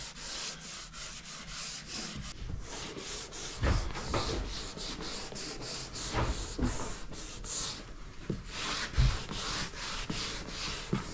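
Sandpaper worked by hand over varnished wood on a wooden boat, a steady close rasping rub with repeated strokes that swell and fade throughout, alone without talk.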